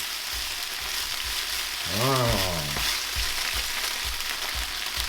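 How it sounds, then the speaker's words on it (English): Green curry paste fries in a hot pan with a loud, steady crackling sizzle throughout, a brief voice-like tone rising over it midway. "And we need to fry that off."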